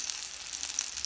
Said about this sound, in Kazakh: Қызып тұрған майда осылай орташа отта қуыратын боламыз.